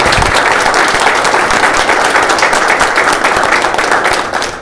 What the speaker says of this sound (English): If those in the council chambers could please rise and give him a round of applause.